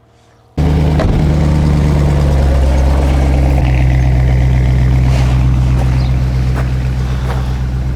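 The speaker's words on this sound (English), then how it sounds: "No matter what, V8 sounds awesome." A V8 car engine idles loud and steady close by, a deep continuous rumble with a brief step in tone partway through, the only sound present.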